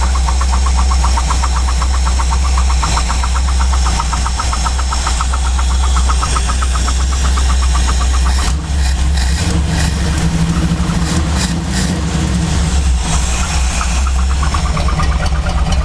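A Chevrolet C10 truck engine runs loud and steady with its throttle nudged up, a dense continuous mechanical drone with a faint knock, alone throughout.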